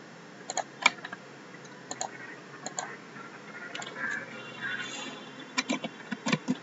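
Computer keyboard being typed on while naming a tool path group in CAM software, with scattered bursts of crisp close key clicks separated by pauses, alone and fairly quiet.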